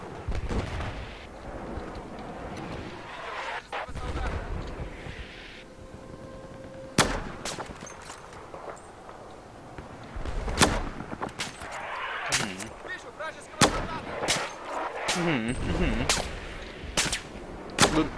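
Gunfire in the multiplayer shooter Battlefield 4 rings out as sharp, loud shots, scattered and irregular across the clip, with a denser burst near the end and distant battle noise underneath.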